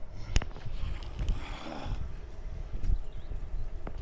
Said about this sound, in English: Go check the horses are ready.